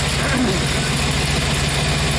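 A 1964 Impala's 327 V8 idles loud and close with a steady low rumble, and a loose, poorly supported exhaust adds a faint rattling vibration throughout.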